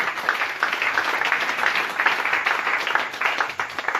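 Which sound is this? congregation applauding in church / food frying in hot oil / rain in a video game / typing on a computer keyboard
congregation applauding in church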